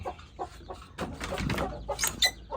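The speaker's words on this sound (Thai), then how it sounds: "ไก่สี่ห้าเดือนเนาะได้ลูกแล้ว กับลูกไอ้หยองนะครับ" Four-to-five-month-old Thai game fowl cluck in short, repeated bursts from nearby pens, with a louder cluster of calls near the end and no talking.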